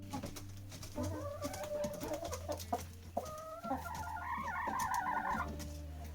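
Several chickens cluck and call steadily close by, with a low hum running underneath and soft pecking at feed in a PVC feeder.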